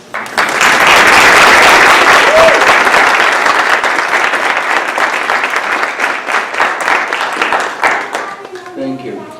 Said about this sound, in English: Would you please stand for applause?